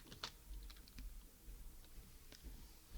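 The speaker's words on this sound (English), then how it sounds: "we're going to type in PACU" Someone typing on a computer keyboard during hospital patient-record software entry: soft, faint, irregular key clicks in a quiet room.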